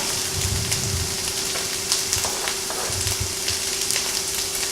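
Peas sizzle steadily in a hot pan for vegetable samosas, a dense continuous crackle with scattered pops and a low hum beneath, no talking.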